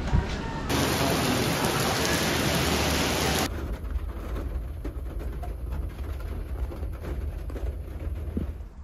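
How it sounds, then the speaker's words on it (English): Steady rain at the Grand Canyon South Rim hisses continuously, heavier at first and then easing to a softer, even patter with no voices. "And it's raining."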